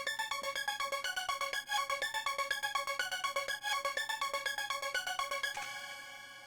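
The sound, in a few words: synth lead with Gross Beat gate effect enabled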